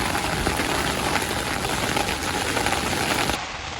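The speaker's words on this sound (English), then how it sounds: "There's the rain." Heavy rain drums steadily on a tent during a big storm, a dense broadband roar that holds constant for several seconds before easing slightly near the end.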